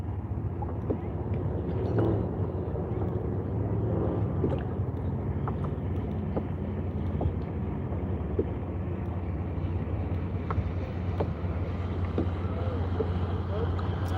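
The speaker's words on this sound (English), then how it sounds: "That boat's gonna leave a wake." Motorboat passing on the James River, heard from a kayak as a steady low engine drone that stays loud throughout, mixed with wind buffeting the microphone and faint water sounds.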